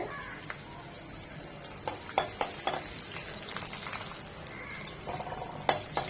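Chopped garlic fries in two spoons of soybean oil in a pan, giving a soft, steady sizzle with occasional light stirring clicks and scrapes, faint and close.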